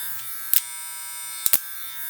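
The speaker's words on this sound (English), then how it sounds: "Quiet clipper, as y'all can hear." A cordless MRD Pro SmartBrain hair clipper runs close by with a steady, quiet electric buzz. Two or three short, sharp clicks or knocks break in over the constant drone.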